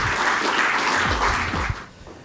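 An audience at a cricket-themed event in Singapore applauds for the SCA president, a dense wash of clapping that fades out near the end.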